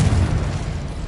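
Confringo blasting spell exploding in Hogwarts Legacy, a single loud, close boom with a deep low rumble that fades quickly.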